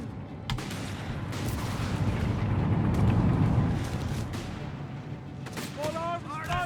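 Rolling gunfire and artillery blasts from a Company of Heroes 3 match between Wehrmacht and US forces, a dense continuous rumble of shots and booms with a swell of heavy explosions midway, with speech present.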